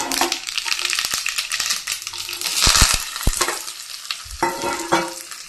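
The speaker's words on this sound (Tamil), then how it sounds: "ஒரு பாத்திரத்தில் கொஞ்சமாக எண்ணெய் ஊற்றிருக்கேன் கொஞ்சம் கடுகு சேர்த்துக்கலாம்" Mustard seeds are dropped into a pan of hot oil for tempering and crackle with a steady sizzle and sharp popping bursts, heard close and without talk.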